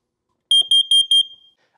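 A rapid run of shrill electronic beeps from a carbon monoxide alarm in a garage, loud and close, ending in a brief fading tone, then silence.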